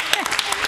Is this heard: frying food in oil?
no